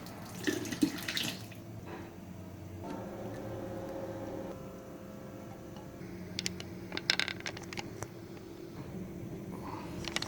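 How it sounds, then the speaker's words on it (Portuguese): Tap water runs steadily into the plastic reservoir of an automatic animal drinker, a close, continuous rushing flow with a few light clinks and knocks of handling near the end. "é só retirar o reservatório, encher na torneira e depois recolocar"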